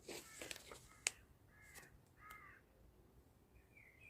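A crow caws a few times in short, faint calls at a distance, following some louder clattering noises at the start.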